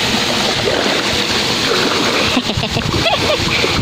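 Water splashes and patters steadily from an outdoor shower at a highland resort, hitting the ground, with a voice speaking briefly near the end.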